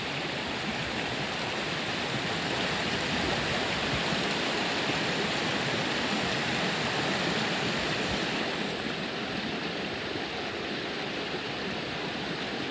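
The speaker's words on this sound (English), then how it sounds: "The water cascades just continue as we go down the property" Stream water cascades steadily down a rough, wet, unlogged New Hampshire property, a dense, continuous rushing roar close by with no voices.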